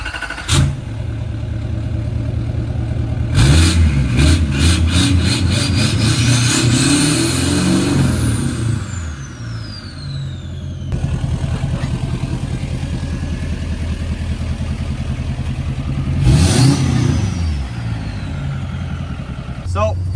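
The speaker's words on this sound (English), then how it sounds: "So, first drive with the Duramax, and this thing literally sounds like a rocket ship now." A 2019 L5P Duramax diesel pickup with a Spelab exhaust and EGR delete revs hard several times close by. Each loud roar climbs and falls away, and a rising whine sweeps up during the pulls.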